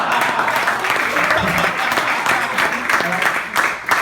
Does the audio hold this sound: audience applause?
yes